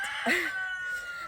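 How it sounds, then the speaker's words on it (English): A single short rooster crow from Robert, a backyard rooster in a flock with chicks, sounds close and moderately loud, a quick rising call that fades out within about a second. "we have Robert who crows a lot"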